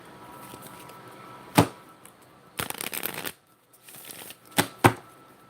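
A deck of Moonology oracle cards is shuffled close by in short bursts: a quick riffle, a longer rustling shuffle, then two crisp snaps as cards are tapped together.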